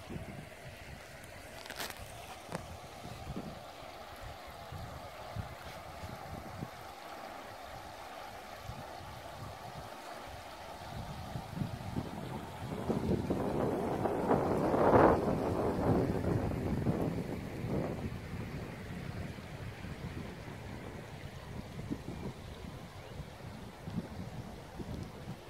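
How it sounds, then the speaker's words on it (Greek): The Evrotas River in Greece flows with a steady, soft rush of water, swelling louder midway, while gusts of wind buffet the microphone. "Θέλω να ακούσετε πολύ προσεκτικά τους ήχους και να δείτε πόση ομορφιά έχει αυτό το ποτάμι"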